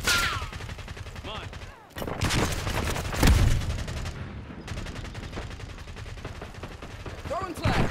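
Gunfire in an online Team Deathmatch match of Call of Duty Black Ops 6, with rapid repeated shots and bursts, a heavier boom midway, dense and loud throughout over other game sounds.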